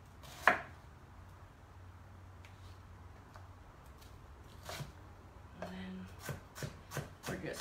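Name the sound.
knife rough chopping salad ingredients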